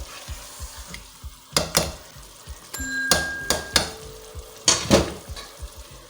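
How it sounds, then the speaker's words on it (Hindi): Rice for zarda is stirred into sugar syrup in a pot, with scattered sizzling and several sharp clinks and scrapes of a spoon against the metal, close by and without speech. "चावलों को शीरे में अच्छा सा मिक्स कर लेते हैं"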